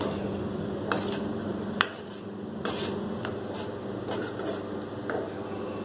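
A spoon stirs tamarind extract into okra gravy in a cooking pot, giving a few scattered clinks and scrapes against the metal over a low, continuous background hum.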